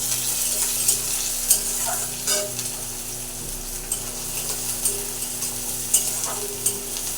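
Onions frying in a pan with chopped green chillies for aloo paratha filling, stirred steadily: a continuous close sizzle with soft scraping strokes and small clinks of the spoon, no talking.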